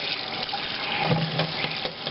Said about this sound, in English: we're going to actually fill the sink with some hot soapy water